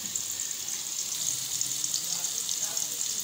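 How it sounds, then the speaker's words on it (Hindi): Chopped onions fry in oil in a pan for an Indian-style arvi dish, a steady, even hiss and sizzle that carries through the whole stretch with no break and no voices. "अब हम इसमें प्याज फ्राई कर लेंगे।"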